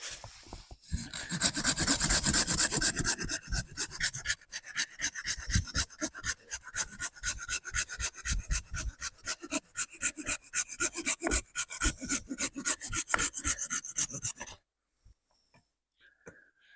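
An AIRAJ folding hand saw cuts through a thin piece of wood in quick, rhythmic back-and-forth rasping strokes, close and loud for about fourteen seconds, then stops.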